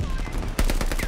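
Gunfire in Call of Duty Vanguard, shooting through a wall, a rapid burst of loud close shots starting abruptly partway through, with faint talk underneath.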